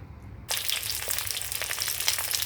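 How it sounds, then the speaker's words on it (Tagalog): Long chillies stuffed with minced fish frying in hot oil, a dense crackling sizzle that bursts in abruptly after a near-silent half second, then holds steady and close with small pops. "I-fry siya until brown."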